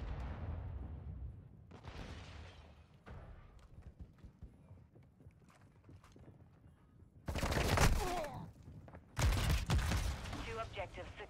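Artillery strikes in the video game Modern Warfare 2 during a Domination match, two loud explosive bursts late in the clip following quieter gunfire and game noise.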